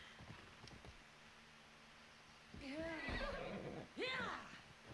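A horse whinnies loudly twice in quick succession after a quieter stretch of low rumbling, in the video game Assassin's Creed Odyssey.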